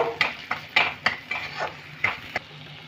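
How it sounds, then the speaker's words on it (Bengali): A spoon sautés spice masala with turmeric, salt and sugar in a pan, with repeated sharp metallic scrapes and clinks in an irregular rhythm over a soft sizzle. "এবার আমি মশলাটাকে কষে নেব"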